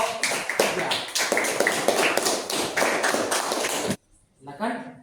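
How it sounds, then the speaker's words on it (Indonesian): A classroom group gives a round of applause for group 3, dense close clapping lasting about four seconds before stopping abruptly, followed by a brief voice. "Kita beri aplaus untuk kelompok 3."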